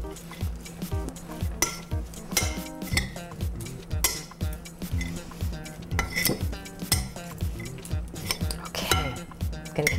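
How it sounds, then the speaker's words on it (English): Roasted Brussels sprouts are spooned from a pan into a bowl, with repeated metallic scrapes and clinks of a spoon against cookware in a quick, uneven rhythm, close by with a faint background hum. "I'm going to spoon these into my bowl"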